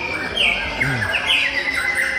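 Songbird at an Indonesian bird-singing contest, bright rapid chirps and trilled whistles repeating close by, with faint background murmur.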